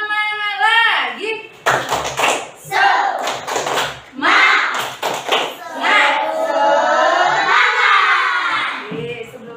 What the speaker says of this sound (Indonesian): Tepuk semangat lagi.